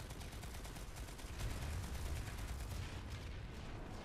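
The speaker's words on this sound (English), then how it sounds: "Who are you shooting at, teammate?" Rapid, continuous gunfire from a Planetside 2 battle on PS4, dense and fairly loud, rattling steadily for about four seconds without any voices.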